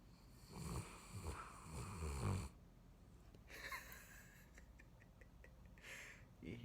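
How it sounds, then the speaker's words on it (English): A sleepy baby girl snoring softly while sleeping on someone, with faint nasal breaths and snorts close to the microphone, with a few quiet background sounds. "You hear her snoring?"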